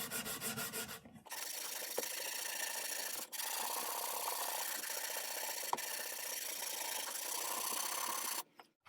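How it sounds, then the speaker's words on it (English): A sanding block rubs back and forth over a wooden military rifle stock, a steady close abrasive scraping that runs continuously for several seconds with brief pauses. "I'm keeping pressure applied to the surface being sanded and not overshooting the edge, causing the block to dip, rolling over the edge."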